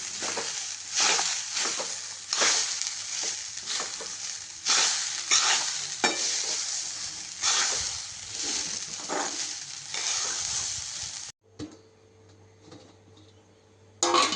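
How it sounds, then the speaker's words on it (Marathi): Sabudana (sago pearls) cooked with sugar and salt for khichdi frying in a pan, with a steady close sizzle and repeated scraping stir strokes, then a quieter, sparser sizzle once the pan settles near the end. "आता आपण शाबू छान परतून घेऊया, तो 10 मिनिटं परतून घ्यायचा आहे।"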